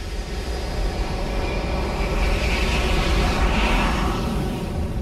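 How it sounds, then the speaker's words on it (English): Jet engine thunder played as a cinema surround-sound demonstration, a loud, sustained roaring rush with a broad hiss that swells toward the middle and stays continuous throughout. "to the thunder of a jet engine"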